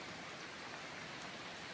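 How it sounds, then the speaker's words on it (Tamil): Steady rain falls during cast-net fishing near a waterway that drains to the sea, a dense, even hiss of drops on surfaces that continues unbroken and fairly close, with no voices. "இன்னும் மழை இருக்குது நிறையா"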